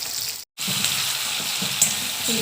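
Onion frying in a hot pan for chicken khushka rice, a steady close sizzle with bright crackling, briefly cut off for a moment before continuing evenly.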